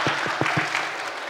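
An audience at a school pageant competition claps in a short, steady burst of applause, fairly close and filling the room, with a few low thumps mixed into the clapping.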